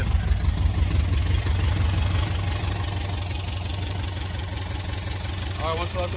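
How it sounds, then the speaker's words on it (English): A rescued 1977 MGB's engine starts and settles into a steady, rumbling idle, heard up close with a low mechanical throb, while someone talks briefly near the end. "let's let this run a little bit and see what happens. Seems to be idling nicely"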